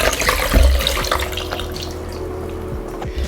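Water streams from a measuring cup or pitcher into a vessel for brewing cascara coffee-cherry husks, a close splashing pour that starts with a gush and then settles into a steady trickle.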